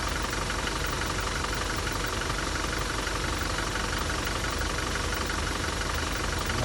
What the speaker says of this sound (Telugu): కంప్లీట్ సౌండ్ చేంజ్ అయిపోయింది ఇంజన్ మొత్తం మారిపోయింది